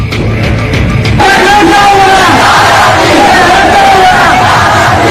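A loud crowd of protesters chants and yells anti-Pakistan slogans in Balochistan, a dense mass of shouting voices that swells after a brief opening and stays steady and close throughout.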